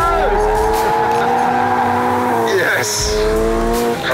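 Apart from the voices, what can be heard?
Toyota GR86 sports car driving hard with tire squeal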